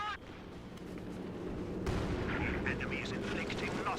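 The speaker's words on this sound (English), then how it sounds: "Air support's coming on in across the front." Airstrike in Company of Heroes 2, a dense rumbling barrage of blasts and gunfire that swells and crackles continuously, with faint voices in the mix.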